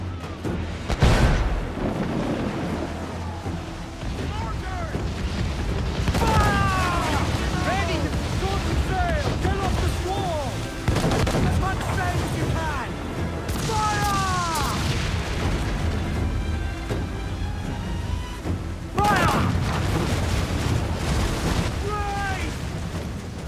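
Ship cannons boom in a naval battle against a heavily armored Spanish-flagged vessel in Assassin's Creed IV Black Flag, repeated loud blasts over constant sea and battle noise, with shouting crew voices throughout.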